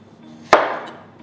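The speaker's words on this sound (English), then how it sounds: "I have taken 3 medium-sized potatoes, cut them into half" A knife slices through a medium-sized potato with a single sharp chop on a board, close and crisp, followed by a short fading rustle.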